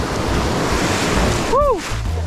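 Ocean surf rushes and roars continuously along a North Luzon beach during a surfing lesson, heavy with wind buffeting the microphone and a brief whoop cutting through.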